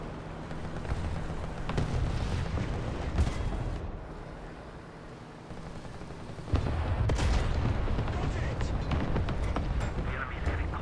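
Sherman Firefly tank battle in War Thunder, with heavy cannon blasts and bursts of gunfire amid rumbling engine and battlefield noise, including a sharp loud shot midway, while people talk.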